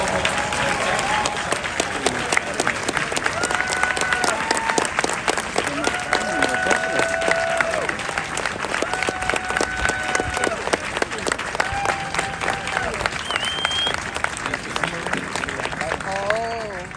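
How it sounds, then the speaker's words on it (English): A crowd claps steadily at a US Marine recruit graduation ceremony in San Diego, a broad sustained applause under a public-address voice that speaks intermittently throughout. "Ladies and gentlemen, a round of applause."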